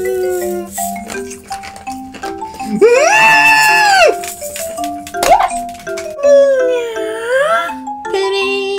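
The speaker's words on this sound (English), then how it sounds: "Puppy." A puppy's high whining howls and yelps rise and fall in several drawn-out bursts over a steady background tune with chime-like notes, loud and close.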